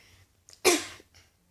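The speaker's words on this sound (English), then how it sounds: "I just had to cough" A single sharp, breathy cough, close and loud, preceded by a faint breath and followed by quiet.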